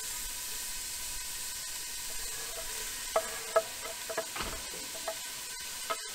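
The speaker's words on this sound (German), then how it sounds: "So, Zwiebeln glasig anbraten." Onions frying in oil in a pan, a soft steady sizzle with occasional faint stirring taps and pops, close and fairly quiet, with no talking.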